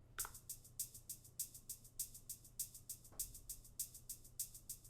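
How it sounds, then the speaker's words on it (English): A short, bright shaker repeats in a tight, steady pattern inside a hyperpop pre-drop beat. The quick, even hits sit faintly over a low sustained tone. "I add this little shaker sound, and it's going to sound like this"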